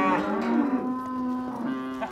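Cattle moo loudly and close by during a sorting of the herd with bulls being separated out, one long sustained bellow lasting about two seconds.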